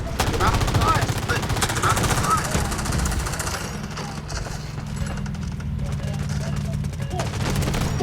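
K416 rifle fire in the mobile shooter Delta Force Mobile, a continuous run of rapid automatic shots with constant battlefield noise throughout, loud and close, with occasional voice in the mix.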